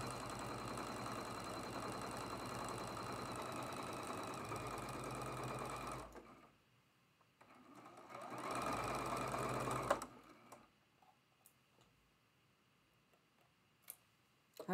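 A sewing machine stitches a quilt block seam for a traditional Double V block, running steadily and close for about six seconds, pausing, then running again in a shorter burst before quieter handling noises.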